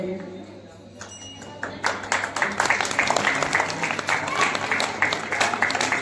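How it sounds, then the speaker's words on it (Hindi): Clapping rises from a hush into a lively burst from the crowd at a Ramlila committee event as officials are honored with badges, the applause swelling after the first seconds and continuing unevenly, with some voices mixed in. "आप लोग जोरदार ताली से स्वागत कीजिएगा।"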